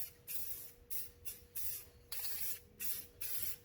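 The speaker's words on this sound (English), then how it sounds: "Just black spray paint." Black aerosol spray paint hisses onto the intake of a junkyard 351W engine on a budget turbo build, in about seven short, evenly spaced bursts, close and loud with no speech.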